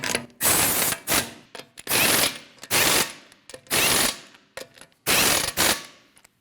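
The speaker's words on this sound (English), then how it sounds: "Put your 5 lug nuts on. Snug those up." A ratchet wrench snugs the five lug nuts on a Honda CR-V wheel, heard close and loud in about six separate bursts of fast clicking with short pauses between them. No one speaks.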